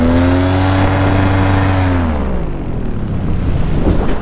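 A paramotor engine revs hard in flight, holding a steady, loud harmonic drone for about two seconds before the pitch drops and it settles into a rougher, wind-buffeted roar.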